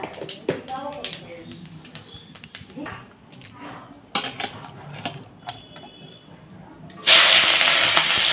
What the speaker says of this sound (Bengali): ফোড়নে দিচ্ছি গোটা জিরে, তেজপাতা